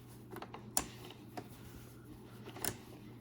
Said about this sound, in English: So now I'm just going to use my little razor over here, my little cutter, and cut each one between.